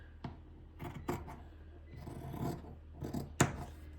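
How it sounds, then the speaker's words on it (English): Scissors cut through a fabric T-shirt to separate the front and back at the shoulders, giving a few quiet snips and rustling slides of the blades against cloth, close and soft with no talk. "now I have my back and front to cut apart at the shoulders."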